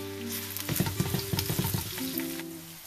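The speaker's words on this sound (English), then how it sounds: "So at first, onion fry," Chopped onion frying in a pan for a butternut squash and tilapia dish, a steady sizzle with busy scraping and stirring clatter through the middle, accompanied by a sustained musical tone in the background.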